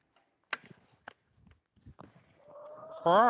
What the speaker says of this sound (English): we're gonna go check in on the chicks, see how the chicks are doing. My chickens.